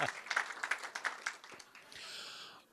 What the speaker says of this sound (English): You already applauded, but applaud again